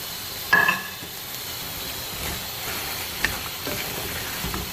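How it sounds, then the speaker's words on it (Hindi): Potato and cauliflower pieces frying in a hot pan with oil, giving a soft, steady sizzle broken by a few brief stirring scrapes; fairly quiet and close, with no talking. "आलू और गोभी को डाल के अच्छी तरह से अब हम इसकी 5 से 10 मिनट तक अच्छी तरह से हम इसकी भुनाई कर लेंगे"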